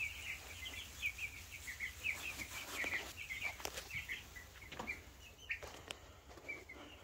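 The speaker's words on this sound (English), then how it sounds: "I've got no room for the meat birds, so I decided to put them in the shop." A flock of month-old broiler chickens kept in a shop chirps in rapid, overlapping high peeps, soft and fairly distant, with light rustling and shuffling underneath.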